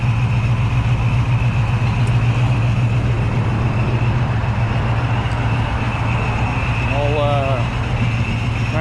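A 1977 Camaro Z28 with a Procharger idles close by on a cold day, a steady, deep, throbbing exhaust drone that holds constant throughout, with a person talking over it.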